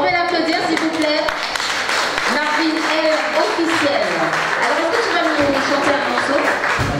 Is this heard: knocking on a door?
no